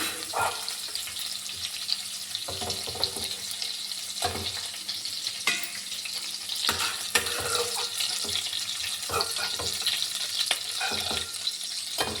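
Dried prawns fry in a pan, a steady close sizzle running throughout with repeated scraping and clattering of stirring, with no talking.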